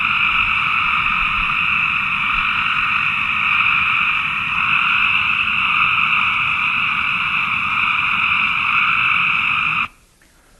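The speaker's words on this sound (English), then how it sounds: "this is the acoustic environment in which receivers have to perceive that call" A dense chorus of calling frogs fills the scene steadily and loudly for about ten seconds, a continuous trilling din where females must pick out a mate's call, then it cuts off abruptly.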